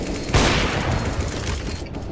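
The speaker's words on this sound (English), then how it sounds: "Throwing a flashbang." Flashbang grenade going off in Counter-Strike: Global Offensive, a sudden loud bang with a broad burst that rings on under a sustained noisy wash for about two seconds.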